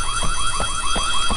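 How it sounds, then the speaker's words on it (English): A school alarm rings loud and close in the horror video game White Day, a continuous warbling tone that rises and falls in a quick steady cycle with no talking. "I mean, it's an alarm."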